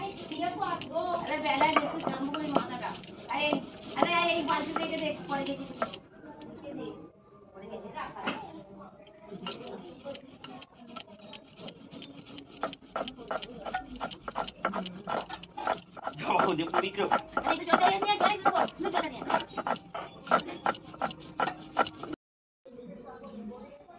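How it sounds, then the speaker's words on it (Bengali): Poppy seeds are ground into a paste on a stone in a home kitchen while cooking okra, giving a rhythmic run of rubbing, scraping strokes close up, with voices talking over parts of it. "আর একটু পোস্ত বেটে নিচ্ছি"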